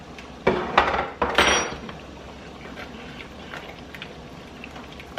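Mashed red beans going back into a metal pot, with a few loud clanks and scrapes of a utensil against cookware early on, then quieter light tapping.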